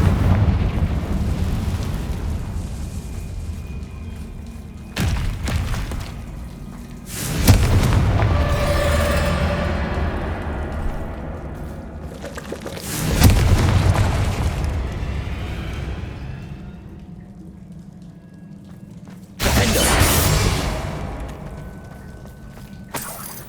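Repeated fire-spell blasts in the Hogwarts Legacy video game, three or four loud booming bursts spaced several seconds apart, each with a rumbling, crackling tail, heard alone without talk.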